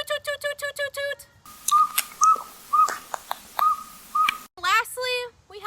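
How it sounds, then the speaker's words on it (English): A northern saw-whet owl gives a rapid, evenly spaced series of short whistled toots, followed by a run of similar sustained tooting notes, close and clear with little background. "The northern saw-whet owl sounds more like a train whistle."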